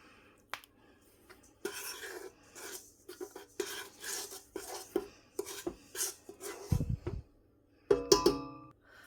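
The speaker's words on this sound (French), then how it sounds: "je prends une cuillère et je mélange" A spoon stirs a sweet cake batter of sugar and vanilla sugar in a bowl, giving a run of close scraping and clinking strokes with a few louder knocks against the bowl near the end.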